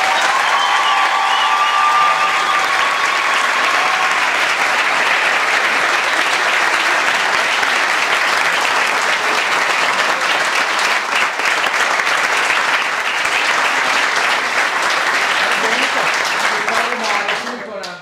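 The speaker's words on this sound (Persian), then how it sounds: "دلم میخواد به احترام هنر این بچه‌های تشویق جانانه کنیم" Audience applause for young actors at a theatre performance, a dense, loud, sustained clapping from a large crowd lasting throughout and tapering off at the end.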